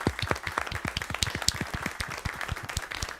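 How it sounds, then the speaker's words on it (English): Rhythmic hand clapping during a live stream, quick repeated claps in a fairly even beat, close and crisp, with a low booming thump accompanying many of the claps. "Everybody clap it up for SJ."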